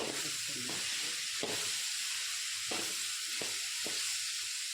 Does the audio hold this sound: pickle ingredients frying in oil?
yes